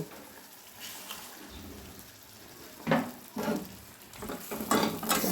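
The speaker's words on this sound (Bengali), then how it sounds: "এবারে গ্রেভির জন্য আমি অল্প একটু জল দিয়ে দেব।" Water poured into sizzling fried masala for a paneer gravy, with a steady hiss building into bursts of crackling and stirring, close up and moderately loud, with no talking.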